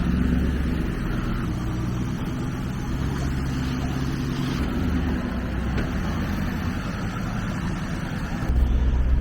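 An SN95 Ford Mustang fitted with a hydraulic handbrake and mini spool backs out. A steady, close engine rumble idles low throughout, with a slight swell near the end.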